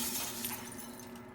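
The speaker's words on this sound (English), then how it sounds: "Broken glass." Glass shatters in a video game, a brief bright crash with tinkling debris over a dense, noisy game soundscape.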